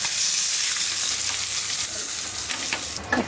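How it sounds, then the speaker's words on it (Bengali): Bori, small sun-dried lentil dumplings, fry in hot oil in a home kitchen, giving a steady close sizzle with light crackles and a few sharper pops near the end, with no talking. "এখন এই তেলেই আজকে বড়ি কয়টা দিলাম"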